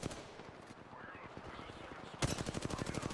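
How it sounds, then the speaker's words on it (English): Rapid automatic gunfire in the battle royale game Apex Legends, a steady stream of shots that swells much louder and denser near the end, with no talking. "taking shots at this Octane up top here"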